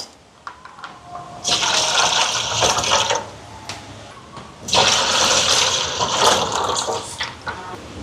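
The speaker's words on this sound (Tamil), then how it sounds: "இங்கே பாயாசத்துக்கு பால் சேர்ப்போம்" Packets of cow's milk are poured into a pot of payasam in two long, loud, gushing splashes separated by a short pause, close by and with no talking.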